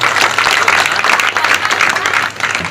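Applause breaks out at a Ganesh festival gathering in Vidi Gharkul, a dense burst of clapping from the audience that holds steady for a few seconds before easing slightly.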